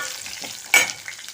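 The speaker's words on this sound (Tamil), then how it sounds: "மிளகு போடணும் பாருங்கள். இதே நல்லா வறுத்துக்கணும்." Black peppercorns dry-roasting in a pan, a faint crackle interrupted by one sharp, brief scrape or rattle of a utensil stirring them.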